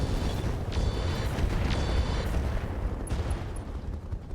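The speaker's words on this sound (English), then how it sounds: "And do fire the machine guns" Machine guns firing in the mech combat game RogueTech, a rough continuous rumble of rapid fire with dull explosive thumps, moderately loud and with no talk.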